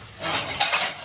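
A lid set onto a cooking pot, a short metallic clatter and rattle over a faint sizzle, heard close with no voices.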